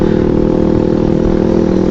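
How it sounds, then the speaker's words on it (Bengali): A motorcycle ahead in a busy Kushtia market area gives a steady, loud engine drone with a constant low hum and rough mechanical clatter that runs unbroken throughout. "সামনের যে মোটরসাইকেলটা,"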